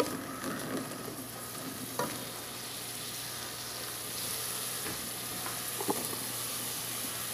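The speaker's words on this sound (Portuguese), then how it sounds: "Aqui eu refoguei o alho," Garlic and onion sautéing in a pan, making a steady low sizzle with occasional scraping stirs and clinks, close and fairly quiet throughout.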